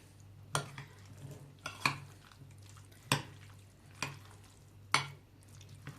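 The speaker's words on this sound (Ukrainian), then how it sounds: "Все добре перемішуємо." Salad being stirred with homemade lean mayonnaise made on pickle brine, giving five or so separate scraping, clinking strokes of a spoon against the bowl, each brief and fairly close, with quiet pauses between.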